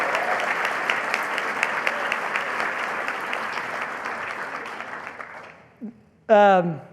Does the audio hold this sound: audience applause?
yes